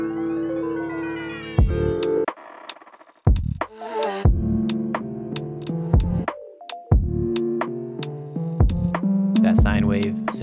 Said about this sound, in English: we have the Rhodes and the sine wave playing with a little bit of the signature sounds in the background